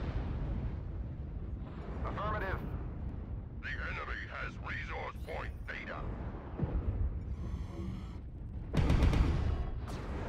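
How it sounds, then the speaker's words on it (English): An artillery strike in MechWarrior Online booms under ongoing game noise, with a voice speaking through part of it and a heavy blast near the end. "Artillery, watch out."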